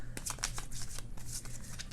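Tarot cards shuffled by hand in a dense, continuous run of quick riffling flutters and soft papery slaps across two seconds, close and steady with no talk.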